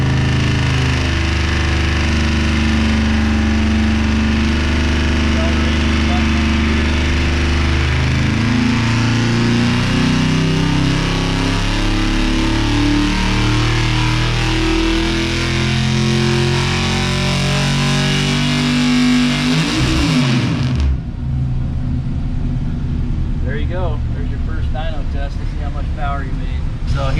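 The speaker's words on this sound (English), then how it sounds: "slowly ease into the throttle. You'll see that the dyno brake will start catching the load." Crate engine on a dynamometer, throttle eased in as the dyno brake takes up the load: a loud, steady mechanical roar with rising harmonic drone that holds for about twenty seconds before abruptly dropping away to a lighter rattle.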